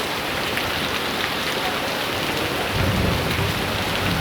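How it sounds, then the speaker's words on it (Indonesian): Heavy rain pouring down at Borobudur, a loud continuous hiss of drops on surfaces, with a low thunder rumble rolling in during the last part. "Sementara hujan masih turun dengan derasnya"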